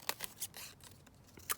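Scissors cutting out small paper tags, a few quick crisp snips in a short burst, close but faint.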